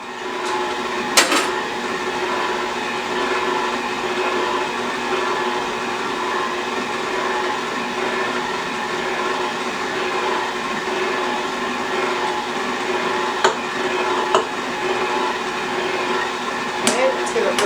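An electric mixer beats cream cheese cookie dough in a steady, continuous whir with a few sharp clicks scattered through, while a voice talks faintly in the background.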